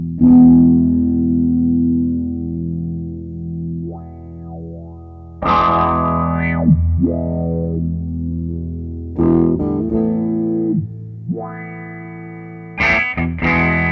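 An All-Pedal Macrodose envelope filter pedal on its sine wave setting, stepping through modes: sustained distorted notes with sweeping, warbling filter glides and pitch swoops, several separate phrases with short gaps, loud and alone.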